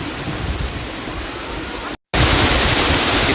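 Kawasan Falls in Balilihan, Bohol: a steady, dense roar of falling water fills the scene, cut by a brief silent gap before the rushing wash resumes, slightly louder.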